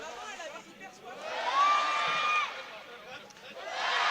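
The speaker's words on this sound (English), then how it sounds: "You have some cheering and motivation for Neptunes." Crowd at a volleyball match between Gas Sales Bluenergy (Italy) and Neptunes de Nantes (France) cheers and calls out for Nantes, a moderately distant murmur that swells briefly with a sustained shout, while a commentator talks.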